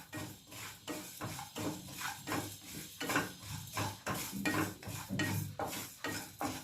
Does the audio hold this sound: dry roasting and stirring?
yes